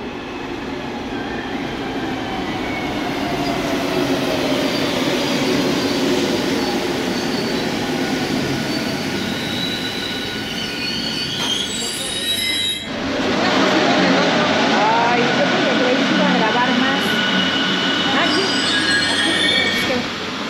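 A Mexico City metro train in motion, heard from on board: loud rumbling and rattling with high wheel squeals, then a sharp shift to a louder, denser roar partway through, with no talk over it.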